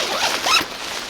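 A single quick zip on a winter hammock, a short rasping pull lasting about half a second, close and fairly loud with no other sounds around it.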